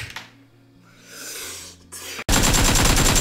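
Video game gunfire bursts into a loud, dense rattle of rapid shots after about two seconds of quieter game ambience, continuing steadily to the end.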